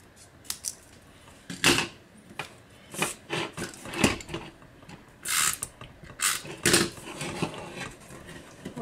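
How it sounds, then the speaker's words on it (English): Metal snips cut small trims off each side of a piece for a vintage heart craft, giving a run of sharp, close clicking snaps in an uneven rhythm, with no talking. "I'm going to take my snips, and I'm going to just cut off a little bit on each side"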